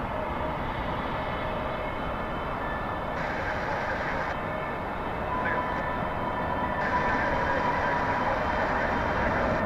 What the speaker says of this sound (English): That's your A321 coming in from Peachtown.